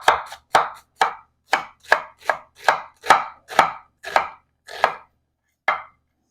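Onion being finely chopped with a knife on a board for homemade bitterballen, a run of about a dozen crisp, evenly spaced chops up close, then a pause and one final chop, with no talking.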